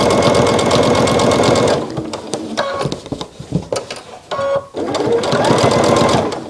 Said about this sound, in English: I'm going to back stitch a little bit and stitch close to the edge